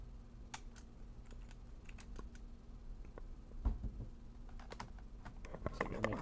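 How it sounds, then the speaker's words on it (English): Someone types on a computer keyboard running the Haiku operating system. Light, quiet key clicks tap in irregular bursts over a faint steady hum, with a slightly firmer cluster of presses near the end. "So I gotta make like noises so you don't know what I'm typing."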